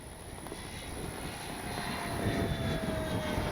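An FMS P-51 Miss America radio-controlled warbird flies past, its propeller engine a steady, distant drone that swells slightly louder toward the end, with no voices.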